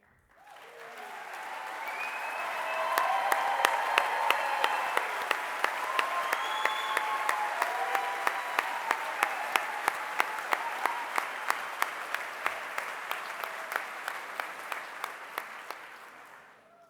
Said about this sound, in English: let's give a round of applause for those participating 20 years or more